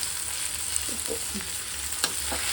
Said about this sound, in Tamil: லைட்டாக இது வதங்க இருக்கணும்.